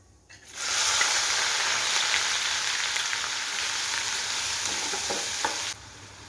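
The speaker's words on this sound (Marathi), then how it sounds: "इथे तेल तापलेलं आहे, त्यामध्ये मी हे 1 चम्मच जिरं घालणार आहे. छान तडतडून द्यायचं आहे जिरं." Cumin seeds and two large onions sizzle in hot oil, a loud steady frying hiss that starts suddenly, holds for several seconds and then drops away.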